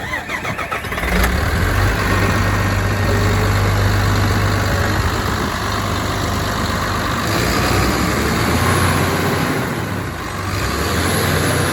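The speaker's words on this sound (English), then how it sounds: "That is a clean burning engine." A Komatsu PC360 excavator's clean-burning diesel engine catches after a brief start and settles into a steady, loud, low idle rumble that holds evenly throughout.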